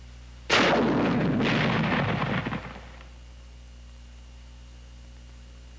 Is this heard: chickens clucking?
no